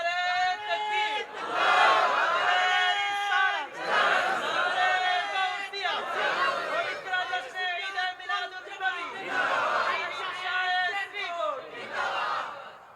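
A large religious gathering chants takbir back to a preacher in loud, rhythmic waves of massed voices, each roaring response rising and fading in repeated cycles, with the preacher's amplified voice between them.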